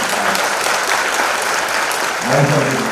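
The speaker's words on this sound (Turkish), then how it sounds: "herkes için şöyle kocaman bir alkış rica ediyorum" An audience at an orthotics and prosthetics centre gives a big round of applause, a loud, dense, sustained wash of clapping with voices rising briefly near the end.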